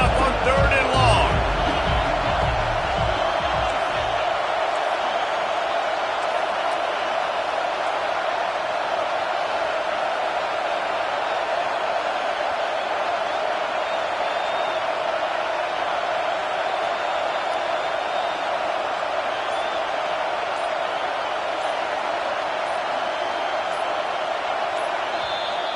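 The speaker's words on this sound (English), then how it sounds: "Here comes the noise" Roaring stadium crowd at a football game, Pittsburgh on offense facing third and long, a sustained loud wash of cheering noise, with a brief announcer-like voice at the start.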